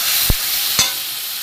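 Broad beans with salt and turmeric fry in a pan with a steady, close hiss, broken by two sharp knocks of a stirring utensil.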